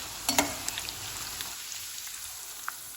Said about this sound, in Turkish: yakmadan kızartacağız.